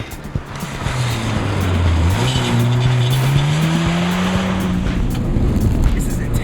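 A car is driven flat out around a track, its engine roaring loud and steady, rising and falling in pitch through the corners, with a faint hint of tire squeal.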